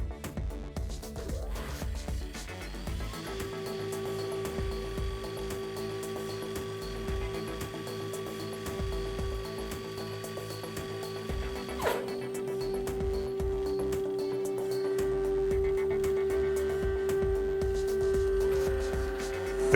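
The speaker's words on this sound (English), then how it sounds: "The clamping is completed and the injection into the mold happens." An APSX-PIM V3 injection molding machine runs through its clamping and injection cycle, giving a steady mechanical hum with a sustained tone, a brief clunk midway, and a slight rise in level toward the end.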